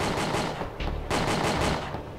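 A turret in WinBack: Covert Operations fires a rapid, steady stream of shots, loud and close, running without a break through the whole moment.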